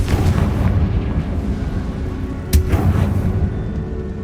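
A loud, low rumbling blast from the Confringo fire spell in Hogwarts Legacy, with a sharp burst partway through over a sustained roaring backdrop.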